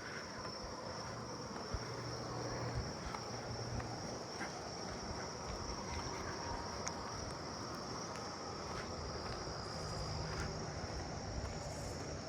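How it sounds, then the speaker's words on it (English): A forest scaly cricket gives a faint, steady high-pitched trill some way off, running continuously under the constant wash of falling rain. "I'm hearing another forest scaly cricket over there."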